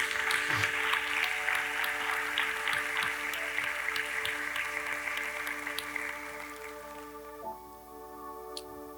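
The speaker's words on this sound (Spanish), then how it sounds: "Puedes aplaudir a ese Cristo maravilloso." A church congregation applauds, a soft, steady patter of many hands over a sustained organ-like chord, fading after about six seconds as the held notes shift and continue alone.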